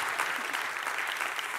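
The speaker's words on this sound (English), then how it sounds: "You can clap." A conference audience breaks into applause for a speaker: a brief, steady patter of many hands clapping at moderate volume, heard from a distance for under two seconds.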